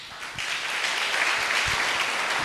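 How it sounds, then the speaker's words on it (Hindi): An audience at a 15 August gathering breaks into steady, dense applause that builds quickly and holds at an even level throughout, a broad wash of many hands clapping nearby. "एक अच्छी ताली"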